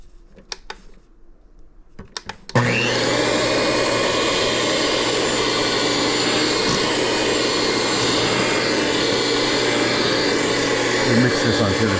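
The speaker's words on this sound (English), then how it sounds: "Mix this until it's combined." Chocolate cake batter with buttermilk and vanilla is blended by an electric mixer that starts after a few quiet clicks, then whirs loudly and steadily at close range until the end.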